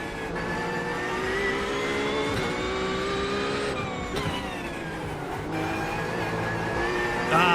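Simulated GT3 race car engine in iRacing at Monza, revving hard and climbing through the gears with a loud, continuous whine and brief dips at the gear shifts.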